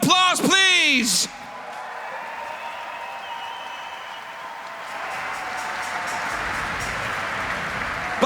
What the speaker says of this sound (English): So please give yourself a big round of applause, please.